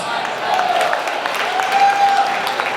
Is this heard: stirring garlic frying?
no